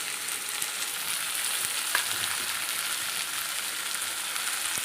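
Onions frying in hot oil for a spicy fish curry, a dense, even crackling sizzle like rain on a surface, held steady and close for several seconds with a faint tap midway, no one speaking.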